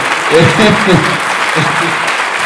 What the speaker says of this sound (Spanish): Yo les agradezco enormemente los aplausos